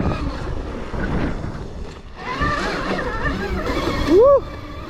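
Off-road ride on a street-legal electric e-bike capable of over 50 mph, heard as a continuous rush of wind and rolling noise with a whining motor rise, while a voice shouts briefly near the end.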